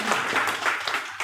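An audience at a meeting in Sundarayya Vignana Bhavan applauds to approve proposals, a dense, loud, continuous patter of clapping hands filling the whole moment.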